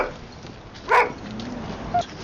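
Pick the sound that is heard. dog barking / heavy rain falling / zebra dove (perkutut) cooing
dog barking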